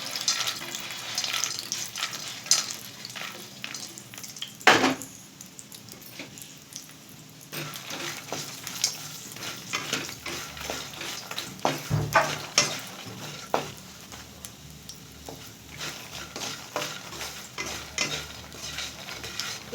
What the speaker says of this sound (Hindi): अब थोड़े से घी 1 चम्मच रह गए हैं, अब इसमें हम मखाना को भूनेंगे